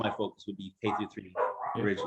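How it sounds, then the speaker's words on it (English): Dogs bark indoors in short bursts, mixed in with and partly under a person talking close by. "Pardon my dogs."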